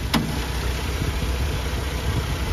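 Close, steady low hum of a 1991 Mercedes-Benz 190E 2.0 engine idling under an open bonnet, with one brief click at the start and no voices.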